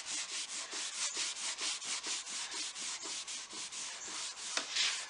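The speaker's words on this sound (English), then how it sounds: "I start to wipe down any place where you see streaks or residual lacquer finish that's laying on the table" A cloth wipes down a cherry drop-leaf dining table to lift residual lacquer finish, making close, rhythmic back-and-forth rubbing strokes, about two or three per second, each a soft swishing scrape.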